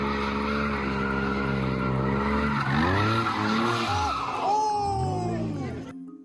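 Tires screeching loudly as a car spins donuts at a street takeover in Buena Park, with engine roar and sweeping squeal arcs rising and falling in repeated loops before cutting off abruptly near the end.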